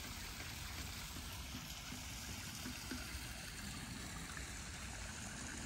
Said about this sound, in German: Hier ist die Bewässerungsanlage, ein Mini-Wasserfall.